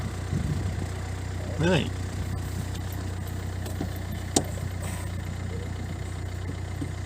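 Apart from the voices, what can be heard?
car engine running after start-up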